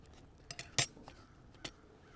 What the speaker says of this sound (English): when I start off with a little bit of the carrots, I did bring a spoon